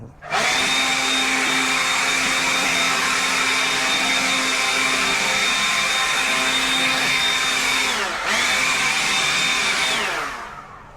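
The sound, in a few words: blower clearing debris off pavers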